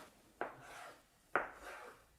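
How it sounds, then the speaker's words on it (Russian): A knife cuts through chilled shortcrust pastry dough, two distinct slicing strokes, each a sharp contact followed by a short scraping drag, close and quiet. "Я его режу на 4 части."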